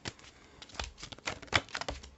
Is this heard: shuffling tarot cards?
yes